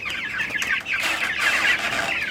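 Meat chickens in a PVC pipe chicken tractor cluck and chatter continuously at close range, a busy flock with overlapping calls and no talk.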